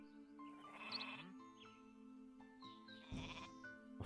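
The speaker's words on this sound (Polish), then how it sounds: "Dałeś mi te owce." Sheep in the strategy game Northgard bleat several times over a quiet game soundtrack, with two distinct calls, one early and one near the end, alongside soft ambient tones.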